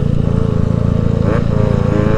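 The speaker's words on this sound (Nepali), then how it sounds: "मेरो बाइकको साउन्ड राम्रो छ" Benelli TNT 300 motorcycle engine running steadily nearby, a loud continuous rumble with a strong even pulse and no break throughout.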